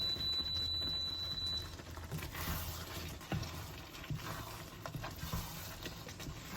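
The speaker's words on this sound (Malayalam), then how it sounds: "നന്നായിട്ടൊന്ന് യോജിപ്പിക്കുക എല്ലാം കൂടെ" Mackerel fish pickle being stirred and mixed in a pan, with soft scraping and gentle sizzling running steadily throughout, close and moderately quiet, with no talking.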